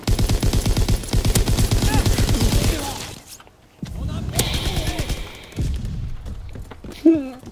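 Lewis light machine gun in Call of Duty WW2 multiplayer, firing loud rapid bursts of full-auto shots, a long burst then shorter ones separated by brief pauses, with a voice talking between.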